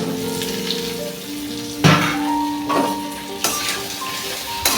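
Potato and eggplant pieces go into a pan of browned onion and fry, a loud steady sizzle broken by a few sharp bursts of hissing and clattering as the vegetables land and are stirred.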